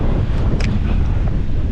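Strong wind at a Maryland shore, gusting around 30 to 40 mph, batters the microphone with loud rumbling buffets while rough waves wash in beneath it. A few brief flaps cut through, and no one speaks.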